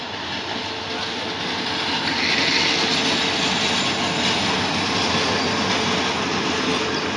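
A train rumbles past loud and close, a steady broadband roar with a faint rhythmic clatter throughout and no voices.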